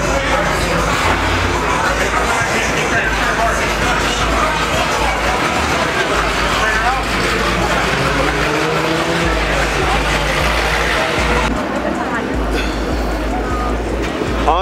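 A car pulls in at a street car meet with a loud, rough engine roar that drops off near the end, over a murmuring crowd and nearby voices.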